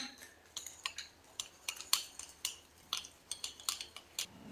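A spoon clinks and scrapes against a bowl while an aloe vera gel face pack is mixed, giving a quiet, irregular series of light metallic taps close by.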